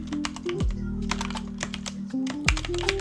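Keys clatter on a computer keyboard in quick, uneven bursts of taps, close and moderately quiet, with a steady tonal hum beneath and no talk.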